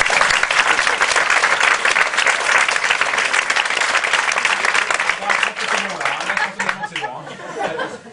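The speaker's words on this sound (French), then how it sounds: "Alors on va l'applaudir 2 ou 3 fois." A theatre audience at a comedy show applauds the sound technician, dense sustained clapping with scattered chuckles and chatter, loud and close, thinning slightly toward the end.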